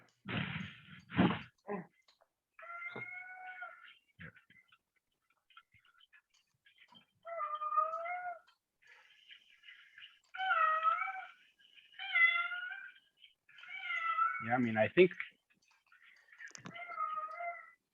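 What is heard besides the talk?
cat meowing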